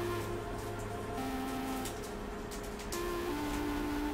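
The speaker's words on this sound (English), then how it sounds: "And then we can put this on the printer." A printer running on a shop bench while printing a vector design for vinyl cutting, a steady mechanical hum with shifting motor tones and faint clicks, continuous and fairly close, no speech.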